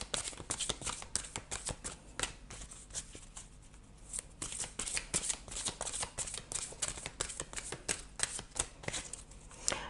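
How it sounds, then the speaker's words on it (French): Tarot cards are shuffled by hand in quick, crisp bursts of riffling and sliding, close and fairly quiet, continuing steadily with brief pauses. "je vais tirer une dernière carte"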